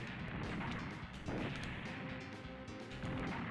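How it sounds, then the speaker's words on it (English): Dense, booming explosions in a Super Mario World ROM hack, a continuous run of crashing blasts filling the stretch with no pauses and no voices. "There's still really nice explosions"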